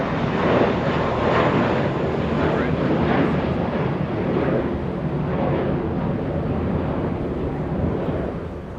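An airliner roars steadily on takeoff from runway 25 right at LAX, a broad loud jet-engine rush buffeted by wind noise on the microphone, holding fairly even before easing slightly at the end.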